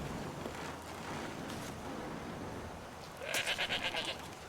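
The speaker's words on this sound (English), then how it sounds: "I don't know if Venari's ever seen a goat" A goat in the video game Skyrim gives a short, wavering bleat near the end, rising above a soft, steady wind-like ambience.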